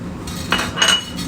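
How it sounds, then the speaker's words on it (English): Prawns being stirred through a risoni risotto in a pan, giving a few close metallic clinks and scrapes of a utensil against the pan over a low steady background. "Stir the prawns through."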